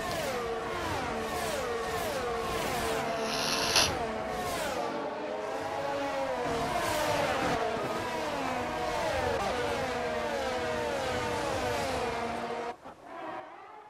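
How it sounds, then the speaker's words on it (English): Formula 1 race cars at Imola in the F1 22 video game, with a Ferrari among them: steady high engine whine with shifting pitch as cars run and shift gears, continuous and fairly loud throughout, no talk, fading briefly near the end. "Charles Leclerc there in the Ferrari was coming round to lap us all."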